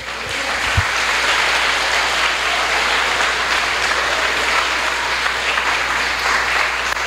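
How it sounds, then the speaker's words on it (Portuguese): A church congregation applauds during a worship service, a steady broad wash of clapping that holds at a constant loud level from start to finish. "Você pode aplaudir Jesus."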